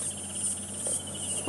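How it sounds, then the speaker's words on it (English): Cicadas in a marula tree on an evening safari drive give off a steady, dense electrical buzzing drone, close and continuous, with a brief rustle near the end. "The cicadas are making a real racket just before we came around this corner."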